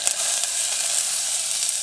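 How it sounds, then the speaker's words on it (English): Hot oil sizzles in a Feekaa multicooker while rice is being cooked, a loud, continuous, close hiss with no voices. "She's a sizzling now."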